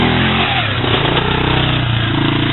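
A Yamaha Grizzly 600 ATV revs hard as it wheels up a hill, its engine a loud, close, rough roar that surges and wavers through the short stretch with no voices over it.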